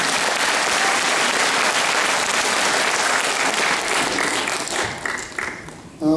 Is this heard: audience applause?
yes